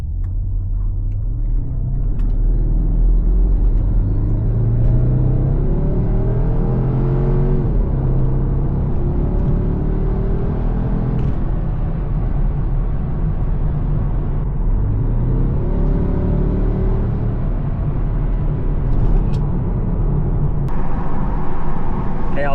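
A Porsche Cayenne Turbo with a secondary cat bypass revs up hard through a long pull, a steady deep rumble and rising exhaust roar, loud and continuous from start to finish.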